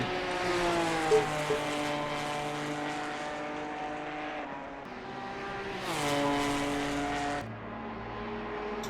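GT4 race cars, a McLaren among them, roar past at Spa-Francorchamps with a sustained, strained engine whine that shifts in pitch as they pass, steady and fairly distant.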